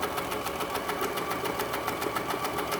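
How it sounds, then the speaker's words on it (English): A sewing machine stitching a back stitch on a crazy quilt square, running steadily with a fast, even mechanical chatter for a few seconds, close and loud, no voices. "I'll put a little back stitch."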